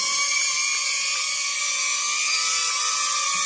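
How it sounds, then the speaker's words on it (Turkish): Small propeller of a model carrier aircraft with vertical takeoff ability whirring steadily at close range, a continuous high-pitched buzz with a sustained tonal whine, no talking. "Bekliyorum şu an pervane çalışacak"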